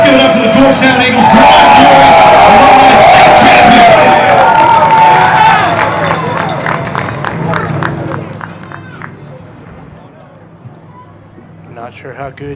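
Crowd cheering and applauding for the Georgetown Eagles at an alumni football game against the Hardin-Jefferson Hawks, loud and dense at first, with whoops and voices mixed in, then thinning and fading toward the end.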